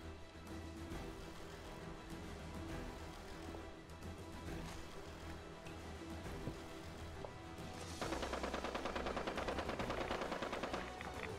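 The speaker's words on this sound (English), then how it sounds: "Gunshots." Gunfire in the Fallout 76 battle royale, with dense overlapping shots through the first stretch, then a louder, rapid automatic burst of sharp repeated reports toward the end.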